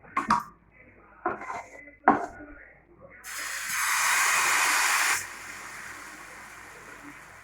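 Oil hits a hot tawa griddle in a Bengali kitchen, a sudden bright sizzling hiss that holds for about two seconds and then settles into a softer steady crackle, after a few clinks of utensils and brief talk.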